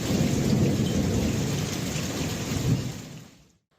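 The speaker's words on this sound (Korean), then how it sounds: "강원도에는 다시 번개와 천둥이 몰려왔습니다." Thunderstorm with lightning over a beach on Korea's Gangwon coast, a loud rolling rumble of thunder mixed with heavy rain that swells, then fades out to silence at the end.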